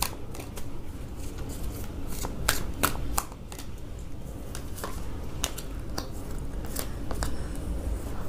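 A deck of tarot cards is shuffled close by, with a steady stream of soft riffling and sharp flicks and snaps at irregular intervals and no voices.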